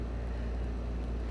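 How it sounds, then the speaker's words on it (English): Steady low hum and broadband whoosh of an air conditioner running in a Florida home, a continuous even drone filling the background with no talk over it. "Sorry if you guys can hear my AC in the background."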